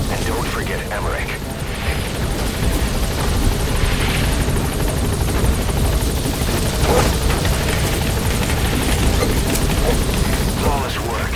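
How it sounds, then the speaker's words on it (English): A helicopter touches down in Metal Gear Solid V: The Phantom Pain, a loud, churning rotor roar with whining turbine that persists throughout, while voices speak over it. "The chopper's touching down."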